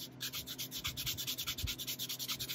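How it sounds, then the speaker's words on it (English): A sanding block rubbed back and forth over small wooden roof truss parts for a model tunnel portal, giving a steady rhythmic scratchy rasp of close, quick strokes with no talking. "Use my sanding block."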